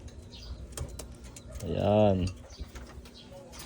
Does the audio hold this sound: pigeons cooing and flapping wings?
yes